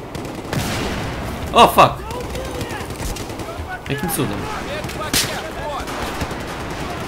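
Battlefield 4 gunfire and a couple of sharp grenade blasts crackle amid background noise while a man exclaims in surprise.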